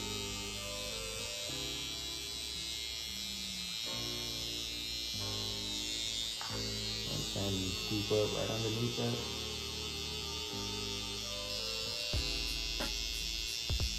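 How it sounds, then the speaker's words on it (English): An electric foil shaver buzzes steadily and close up throughout, cutting hair during a burst taper haircut, a constant high hum while someone talks over it. "I like using a full shaver because it gets closer to the skin."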